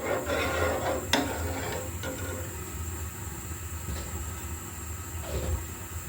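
Fruit custard is stirred nonstop in a pot on a lit stove, producing a continuous soft scraping and rubbing against the pan over a steady low hum, with a few sharper knocks.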